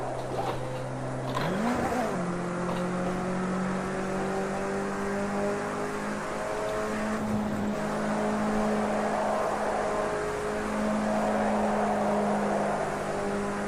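A Mitsubishi Lancer Evo slides around a corner with its engine droning steadily, the pitch rising and dropping as it revs. A brief tire squeal comes early on, and the engine stays loud and near throughout.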